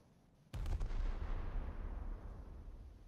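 A warship's secondary guns fire in War Thunder, one sharp loud blast followed by a long booming rumble that fades slowly.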